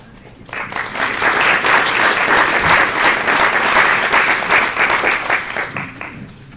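An audience at a United Nations Association event celebrating the world's children breaks into applause as a speaker stands, dense steady clapping that starts abruptly, holds strong for several seconds and then tapers slightly.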